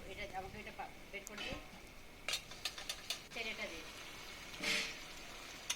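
Olive chutney being stirred with a little water in a pan, soft scraping and faint bubbling with a few light clinks of the spoon against the pan, quiet and close, while a voice talks at times.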